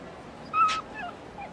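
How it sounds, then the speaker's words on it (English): A dog in the video game Yakuza Kiwami 2 lets out a single short, high whimpering yip, moderately loud, over quiet game background. "Oh no, it's Puppy Dog"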